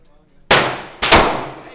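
Two sharp, loud handgun shots from a 9mm pistol fired at a zombie target, about half a second apart, each with a ringing decay and no talk.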